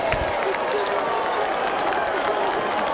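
A large basketball crowd at the Target Center in Minneapolis roars and cheers during a high school game, with scattered clapping. The noise is loud and sustained throughout, and a commentator talks over it.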